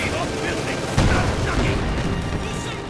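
A mortar blowing apart in the World War II strategy game Company of Heroes 2, a dull booming blast at about one second over a steady din of battle noise, with a commentator talking throughout.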